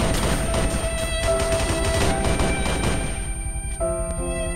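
A firing squad rifle volley in the video game Halo, dense loud bursts of overlapping shots for about three seconds, then ringing tonal game sounds and scattered impacts as the firing stops.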